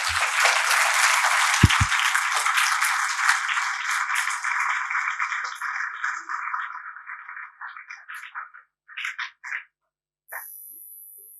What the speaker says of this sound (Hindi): एक बार सब अपने पेरेंट्स के लिए जोरदार ताली बजा दें।